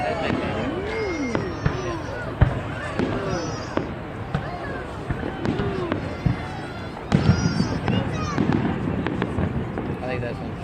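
Fireworks go off over Sacramento at New Year's, with scattered sharp pops and bangs and rising whistles at a moderate distance, while people chat nearby.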